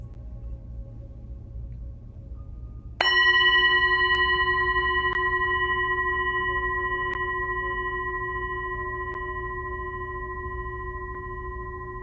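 A single meditation bell is struck once against a quiet low hum, its clear metallic tone ringing out and fading slowly over several seconds.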